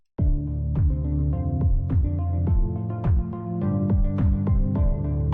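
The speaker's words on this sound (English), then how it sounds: "This is the low pass filter" A rhythmic electronic music loop with steady pulsing bass and percussive hits. A low-pass filter sweep slowly opens, bringing the higher sounds in gradually over a continuous, even level.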